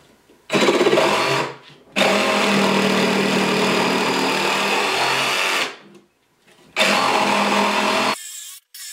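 A cordless power saw running on a cheap Vannon battery cuts through a 2x4 in three loud bursts of motor whine and blade rasp, separated by short pauses, the last cut ending abruptly.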